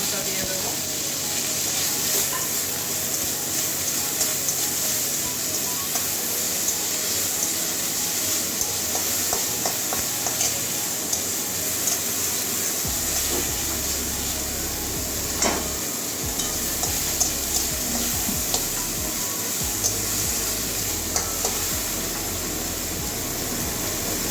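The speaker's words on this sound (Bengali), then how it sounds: "কারি পাতাগুলো আমার ভাজা হয়ে গেছে" Curry leaves frying in a pan give off a steady, close hiss and sizzle that runs unbroken throughout, with occasional faint clicks and stirring.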